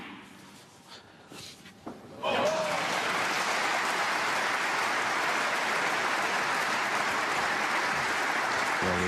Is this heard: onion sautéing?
no